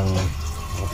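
Water pours into a cooking pot for boiling in a brief, steady rush, with a voice speaking over it.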